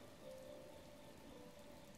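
Steady rain hisses softly in the open world of The Legend of Zelda: Breath of the Wild, a faint even patter with no voices over it.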